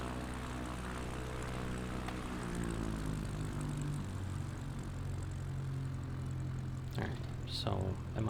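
Propeller plane engine at full throttle in Microsoft Flight Simulator 2024, a steady loud drone with low harmonic hum that shifts pitch slightly, under occasional speech, with a couple of brief clicks near the end.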